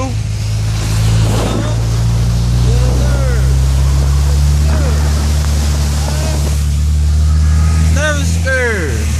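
A Toyota pushes through deep flood water on a Houston street, its engine droning steadily beneath a continuous rushing wash of water, with a voice breaking in at intervals.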